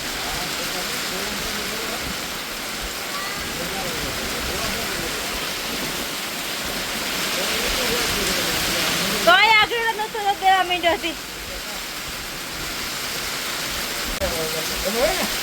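Heavy rain pours down in a dense, steady roar. Someone speaks briefly near the middle, and the downpour continues under and after his voice.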